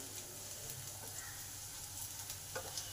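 Chopped garlic fries in a pan for a jute-leaf stir-fry, giving a faint, steady sizzle with occasional light stirring scrapes close by.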